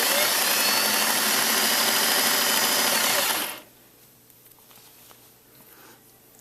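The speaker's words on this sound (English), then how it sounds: "Stretch it while I'm sewing." A sewing machine stitches a stretched ribbed neckband onto a poncho, running loud and steady for about three seconds before stopping abruptly into near quiet.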